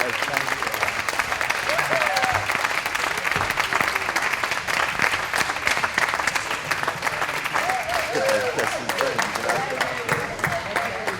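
Audience applause fills a studio after a piano concert, steady dense clapping sustained throughout at fairly close range, with no voices on top.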